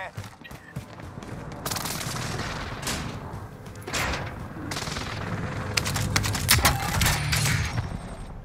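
Gunfire in Call of Duty: Modern Warfare, with loud bursts and scattered shots in a busy firefight, sometimes rapid and overlapping, over background game noise and occasional voices.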